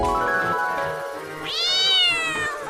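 A cartoon cat gives a drawn-out, rising meow, loud and close, following a steady tonal background with no talking.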